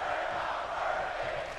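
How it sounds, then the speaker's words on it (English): Arena crowd in the WWE 2K22 wrestling game roaring steadily during a tense match, a dense continuous wash of cheering with no gaps. "Crowd here tonight feeling it."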